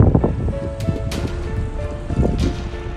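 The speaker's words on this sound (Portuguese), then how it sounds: "E ventando ainda." Gusty wind buffets the microphone outdoors over fire-burned sugarcane fields and pasture, a continuous rumbling roar with a few brief faint tones, fairly loud throughout.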